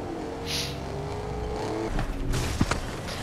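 A truck driven in the Fortnite video game rumbles with a steady engine drone that rises in pitch, then bumps and scrapes near the end, heard without talk.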